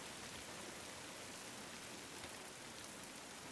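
Steady rain pours in The Last of Us Part II, a continuous, even hiss of falling water that fills the whole moment with no pauses and no voices.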